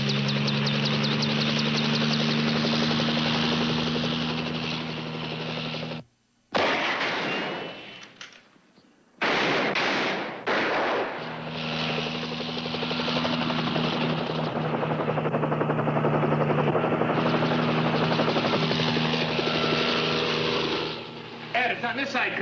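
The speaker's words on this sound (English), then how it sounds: "the copter might be able to fulfill its mission" A helicopter thunders close and loud during a heavy crossfire, its steady engine roar and blade chop filling the scene, briefly cutting out and dropping away before surging back to a sustained drone.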